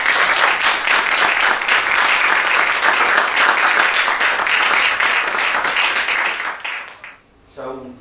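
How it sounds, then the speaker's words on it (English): An audience at an orchestra rehearsal lecture breaks into sustained, loud applause, dense clapping that holds steady for several seconds before fading out, with a brief voice at the end. "you can come up and give a round of applause."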